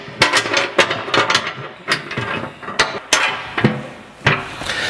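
Ratchet tightening hardware on a skid plate bracket beneath a Jeep JL with a HEMI 392: repeated sharp clicking bursts in uneven bursts, close and fairly loud, with no talk.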